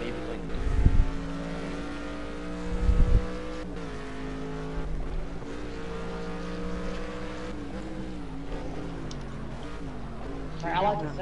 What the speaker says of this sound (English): I like the sound of this car